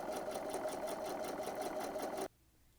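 A sewing machine running a regular-length straight stitch along a shirt yoke seam, a fast even rhythmic whirring that stops abruptly near the end, close and steady.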